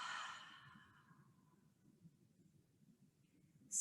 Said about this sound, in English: And open mouth exhale.